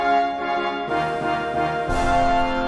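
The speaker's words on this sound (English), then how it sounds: "if they're my spells, then long rest sounds like this." A long-rest sound effect from a tabletop role-playing game rings out as a steady, shimmering tonal chord. It swells and brightens partway through, with no talking over it.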